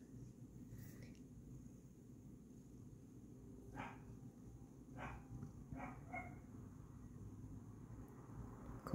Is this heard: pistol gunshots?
no